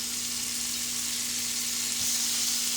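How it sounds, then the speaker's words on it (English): Butter-like spread sizzling in an already hot pan, a steady close hiss of frying that holds evenly throughout with a low background hum beneath it. "Got the butter spread out, spreading around. Pan is hot already."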